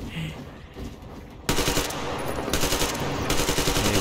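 Gunfire in the video game Metro Exodus: a quieter opening, then sudden loud sustained automatic bursts that rattle on densely and continue to the end.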